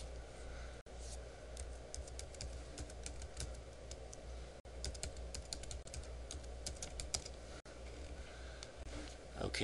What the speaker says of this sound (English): I just typed in the customer name